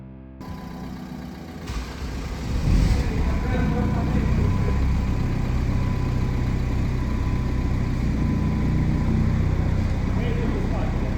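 A Jeep Grand Cherokee WJ engine runs after a gearbox replacement, a loud, steady low rumble that swells at startup and holds at idle close by, with people talking over it.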